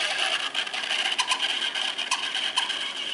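A Ventisol electric fan motor with a faulty shaft runs loudly and close, a steady buzzing whir with rattling ticks and uneven wobbling surges throughout.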